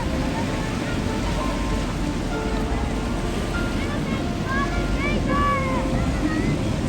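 Ocean waves roll continuously at Waikiki Beach in Hawaii, a dense steady wash of surf with wind buffeting the microphone, while voices talk faintly in the background.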